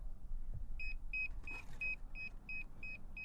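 A DJI Mini 2 drone syncing sends out a steady row of short, high electronic beeps at an even pace, about three per second, over a constant low rumble inside a car, with no one talking.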